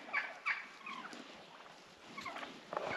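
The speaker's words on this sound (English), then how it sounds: "Lots of nice gobblers though." Turkey gobblers feeding on a ranch where corn was spread, with a few short calls breaking through a steady outdoor background of rustling and faint ambient noise.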